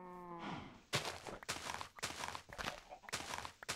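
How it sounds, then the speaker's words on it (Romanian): Cows mooing on a Minecraft farm: a short low moo, then a series of loud rhythmic thumps and clatters from gameplay. "hai să mulțim și vacile"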